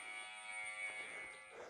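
A workout interval timer buzzer drones in a steady, harsh electronic tone during a bodyweight Tabata fitness class, moderately loud and continuous with no speech.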